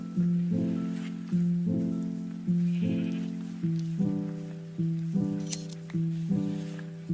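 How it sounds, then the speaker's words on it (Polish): Repeated Minecraft sheep bleats in a steady rhythm, about eight short calls in a row, clean and loud, with faint snipping sounds. "a tutaj chodzi ta owca"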